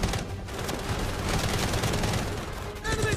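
Dense, continuous gunfire and explosive rattle from a video game trailer, loud and sustained throughout, with brief battlefield noise mixed in.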